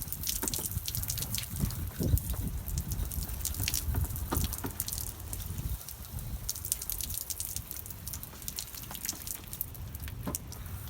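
Water trickles from a solar shower during an outdoor wash, a steady patter of drips and light splashing with no talking, the flow sounding fairly weak.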